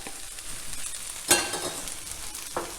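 Courgettes go into a hot frying pan, where a constant sizzle swells into a sharp hissing burst as they land and then a smaller flare a moment later.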